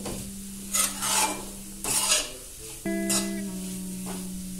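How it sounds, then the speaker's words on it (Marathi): A spatula scrapes and stirs ingredients roasting in a pan for almond sheera, making several short rasping bursts over a steady low hum. "या ज्या आपण गोष्टी टाकल्या आहेत त्या बऱ्यापैकी भाजत आल्या"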